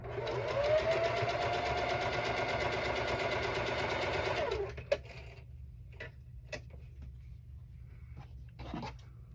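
A sewing machine runs steadily for about five seconds while quilting a cat quilt, a fast, even mechanical whir, then stops, leaving a few faint clicks and handling taps.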